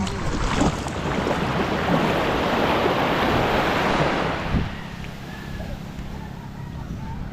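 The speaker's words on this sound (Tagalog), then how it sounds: "Ang liliit ang alon. Ito lang sa tabihan yung alon" Steady broadband wash of small waves breaking close by, continuous and fairly loud, easing slightly near the end with some wind noise.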